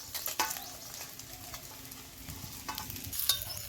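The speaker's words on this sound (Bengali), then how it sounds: "অল্প করে মাছগুলো ভাজা হয়ে গেছে, আমি তুলে নিচ্ছি।" Fish fry in oil in a pan with a steady, soft sizzle, broken by sharp scraping clicks as the pieces are stirred and lifted out.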